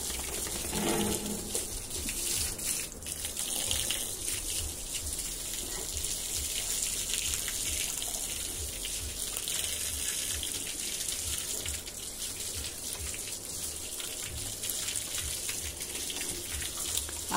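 Cold tap water runs steadily and close by while a dog is bathed, a continuous splashing gush with no talk over it.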